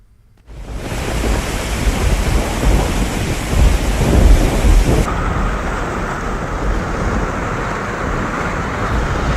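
A heavy thunderstorm in Himachal Pradesh, loud and dense: a sudden burst of rolling thunder over a wall of pouring rain that continues without a break, with no voices.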